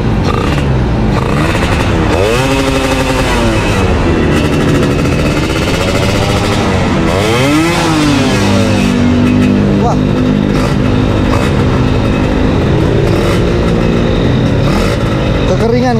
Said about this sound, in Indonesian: Mau coba blayar dulu guys.